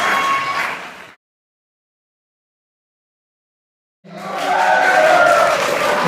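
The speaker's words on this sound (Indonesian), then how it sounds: "Beri tepuk tangan untuk keempat kandidat kita." Applause from the audience for four candidates at a student executive board governor and vice-governor debate: a burst of crowd noise that breaks off into silence, then swells back up louder and denser.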